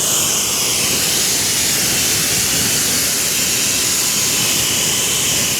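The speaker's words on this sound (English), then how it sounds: "And then we give it a rinse." Pressure-washer water spray rinses a car during a wash, a loud, steady broadband hiss that runs unbroken and close up with no talking.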